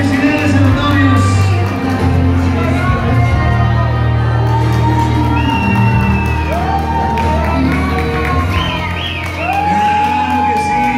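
A wedding crowd cheering, whooping and shouting for newlyweds, loud and continuous throughout, with voices calling out over the noisy din.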